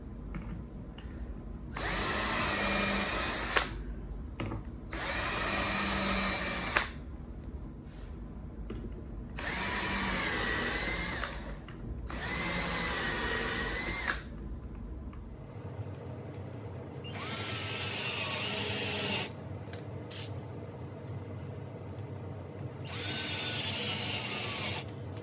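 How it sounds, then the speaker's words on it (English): A power drill whirs in several separate bursts of a few seconds each, with pauses between, close by and steady, no talking. "Drill."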